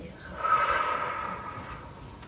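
A single slow exhale during a guided breathing exercise, a close, soft airy whoosh that swells and fades over about two seconds.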